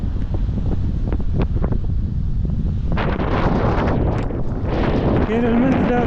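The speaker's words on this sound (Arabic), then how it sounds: "ما يمكن تأثر على الريح، كاين الريح." Strong wind buffets the microphone at the seaside, a constant roaring rumble with surf-like washes and some faint indistinct voices mixed in.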